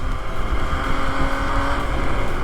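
A 2020 MV Agusta roadster motorcycle engine on an open-house test ride, a steady, loud, close drone with an even hum and no voices over it.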